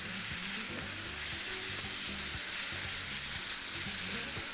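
Chopped vegetables frying and sizzling steadily in a pan, their moisture cooking off, with a dense continuous crackle and occasional scrape of stirring, close and alone with no voices.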